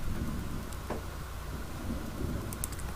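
Steady pouring rain in The Sims 3 on a tropical island, a dense continuous hiss with low rumbling beneath and a faint thunder-like swell, heard alone without any talk.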